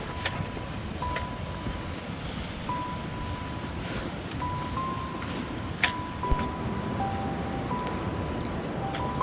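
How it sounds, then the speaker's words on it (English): River Prekchu on the Goechala trek rushes and splashes over boulders in its bed, a steady broadband roar heard close with faint tonal beeps and a few small knocks over it and no talking. "the river Prekchu welcomes the travelers with its beautiful splashing sound all over the boulders over the river bed"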